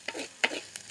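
Prawns frying in a pan are stirred in three quick scraping strokes, close and crisp, each with a brief sizzle between them.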